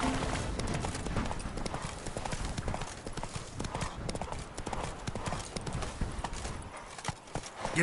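Horse hooves clip-clop steadily in a fast, rhythmic gallop through The Witcher 3, loud and continuous with a brief whinny possible, while a voice talks over the hoofbeats.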